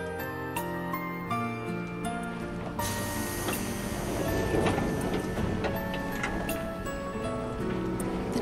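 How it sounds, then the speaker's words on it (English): Train departing a station in the video game White Album 2: tonal chimes and a mechanical clatter, then a swelling rumble of the moving train with a sustained whine, fairly close and steady. "The train left Minami Suetsugu at 8:08."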